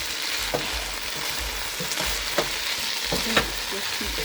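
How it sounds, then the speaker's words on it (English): Collard greens cooking down in broth in a pot, stirred with a steady bubbling sizzle and occasional soft spoon knocks, close and continuous. "Just keep stirring till it kind of sweat down."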